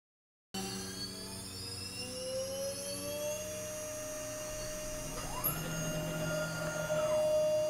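A CNC lathe runs a contour turning program, giving a steady machine hum with tonal whines that rise and shift as the spindle and axes move, growing slightly louder toward the end.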